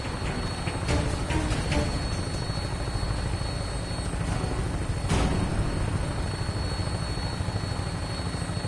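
A vertibird aircraft in a video game holds a steady, loud rotor and engine drone throughout, with brief sharper bursts layered on top and no talk.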